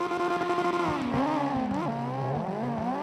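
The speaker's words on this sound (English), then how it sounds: "These S15s are screaming down the track." Nissan S15 drift cars at full throttle on a circuit, engines screaming at high revs in a harmonic-rich wail that shifts pitch as they change gear and slide, loud and steady, with no talk.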